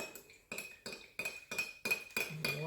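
A spoon stirring and rapping against the inside of a pot of water, a run of about seven regular metallic clinks with a faint ringing tone, close by and with no talking.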